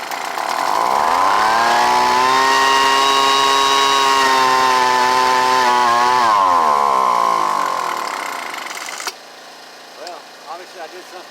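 A Craftsman leaf blower's small two-stroke engine catches after a recoil pull. It runs loud and steady close up for several seconds, then drops in pitch and cuts out, leaving quiet clicks and handling noises.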